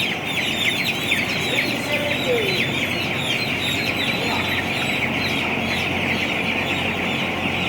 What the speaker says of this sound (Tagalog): Sa daming manok dito.